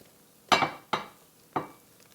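Keto lemon pound cake batter goes from a bowl into a Pullman loaf pan. Three distinct clinks and scrapes of utensil against pan or bowl ring out close by in a quiet kitchen, with no talking.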